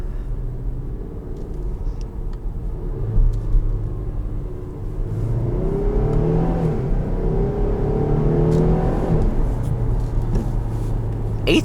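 A 2021 Jeep Grand Cherokee Trailhawk engine with an eight-speed transmission revs up toward redline, its steady rumbling drone climbing in pitch over several seconds, heard from inside the cabin.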